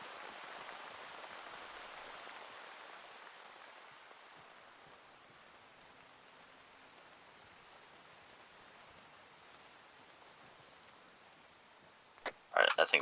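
Steady soft rain in a video game hisses throughout, fading slightly over time, with a few sharp clicks and knocks near the end.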